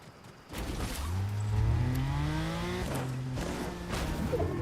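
A fast car in a video game drives past with a rising engine whine that climbs steadily in pitch, loud and close, continuous for several seconds with a brief shift partway through.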